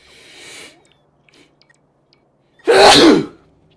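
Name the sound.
sneeze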